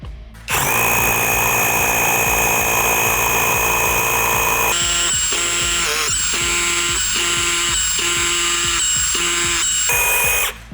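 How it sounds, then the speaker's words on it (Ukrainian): A Procraft cordless hammer drill with a 6 mm bit grinds into a concrete curb stone, one long continuous run followed by a series of shorter bursts, loud and close. "Будемо тестувати наш перфоратор."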